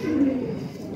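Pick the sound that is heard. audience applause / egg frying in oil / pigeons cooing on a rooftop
pigeons cooing on a rooftop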